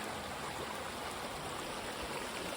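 A good-sized mountain stream along the Colorado Trail near Breckenridge rushes past in a continuous, dense, close-up wash of water noise with no voices.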